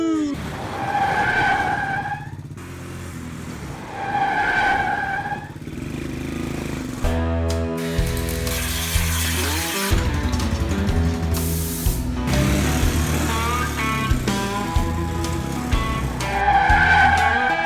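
A homemade micro car with a 125cc engine and five-speed gearbox with reverse runs along a dirt road, its engine droning and revving loudly while gravel and tires crunch and hiss, with brief quieter gaps between passes.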